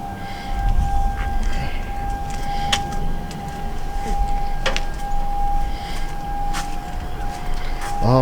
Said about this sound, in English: Sorry about the siren. We got the 12 o'clock siren today